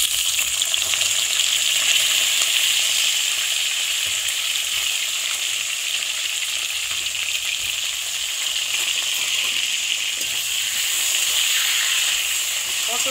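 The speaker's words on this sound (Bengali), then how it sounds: "তেল দিয়ে দিয়েছি, এবার এর মধ্যে পটলগুলো ভেজে নেব।" Pointed gourd pieces frying in hot oil in a pan, a steady dense sizzle running without pause at an even, fairly loud level, with occasional faint stirring and no talk.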